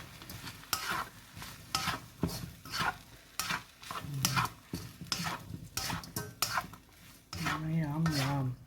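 Broccoli sizzles and fries in a pan for chilli chicken fried rice, with repeated scraping and stirring strokes of a utensil against the metal and a steady crackle underneath throughout.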